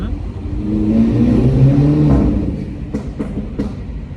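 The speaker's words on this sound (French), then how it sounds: "Ça pète bien, ouais, l'échappement lui va bien." Car revving through a loud exhaust, the engine note swelling and falling once, then a few sharp cracks and pops in quick succession close by.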